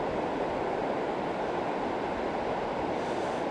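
Ocean surf breaking on a beach at Long Beach, Washington, heard from about twenty meters away as a steady hissing wash mixed with wind, with no one talking.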